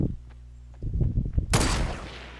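A loud sniper rifle crack in Fortnite Battle Royale bursts out sharply after low game noise and muffled thumps, followed by a bright ringing decay.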